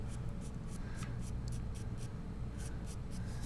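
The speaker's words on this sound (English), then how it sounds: "I'm going to draw a circle" White charcoal sketches a circle on paper, a run of quick, close scratchy strokes in a steady rhythm, paused briefly midway, over a constant low background hum.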